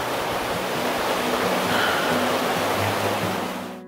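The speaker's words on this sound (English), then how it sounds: "The fresh sound of the creek flowing." Catherine Creek in Northeast Oregon rushes steadily, a loud, dense broadband wash of flowing water close by, continuous and unbroken with no voices, fading slightly at the very end.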